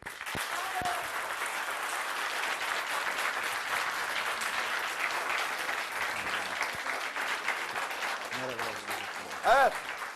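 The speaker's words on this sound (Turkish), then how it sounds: "Recep Altun'a güçlü bir alkış istiyorum" A crowded audience applauds the mayor, Recep Altun, with dense, steady clapping sustained throughout, and a voice breaks in briefly near the end.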